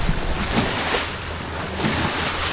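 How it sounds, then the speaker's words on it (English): Ocean waves and steady wind wash around a Hobie Cat 16 catamaran under sail, with contrary waves from a passing large boat; continuous broadband surf and wind noise, close and fairly loud, with no talk. "Waves from the other side."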